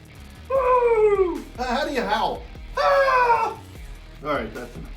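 A person imitates a wolf howl in a few drawn-out, falling vocal wails with short pauses between them. The imitation is loud and close, with brief vocal sounds between the howls.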